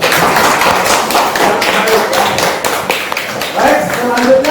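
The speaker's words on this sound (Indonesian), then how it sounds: "Kita tepuk tangan dulu untuk teman kita." A classroom of students claps for a classmate after a presentation on work processes and prototypes, a dense, steady patter of hands filling several seconds with faint voices mixed in.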